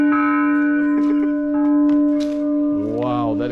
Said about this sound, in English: Wow, that is a very loud bell.